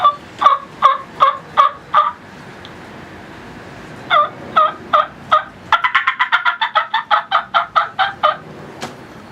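A turkey call imitates a hen's fly-down cackle, used while hunting turkeys over decoys: sharp, close, clucking notes in short bursts, then a long, fast, accelerating run of cackles, loud and with no talking.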